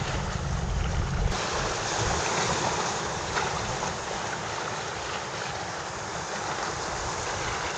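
Sea waves slap and wash against a small fishing boat on open water off Quezon, a steady churning surf with wind buffeting the microphone throughout, close and continuous with no talking.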